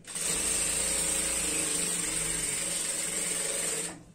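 A sewing machine runs continuously for about four seconds stitching a straight seam on a salwar, a loud steady whir with a high motor whine, stopping abruptly at the end.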